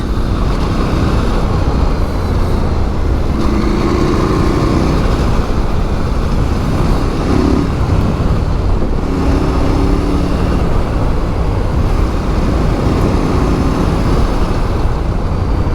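A Norden 901 adventure motorcycle on WP Pro suspension rides hard over bumps, its engine and wind roar forming a loud, steady wash with a faint engine hum beneath.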